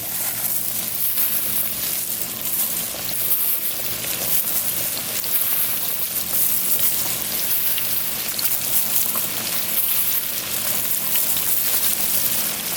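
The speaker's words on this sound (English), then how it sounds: "Let's go ahead and drop these buttermilk ranch wings in here." Buttermilk ranch chicken wings fry in hot grease with a loud, steady, crackling sizzle that runs continuously and evenly, with no voices over it.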